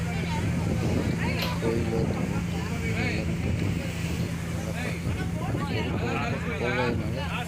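A small boat cruising at about 10 knots off Rameswaram, its steady engine drone and water wash running throughout under close, continuous talk.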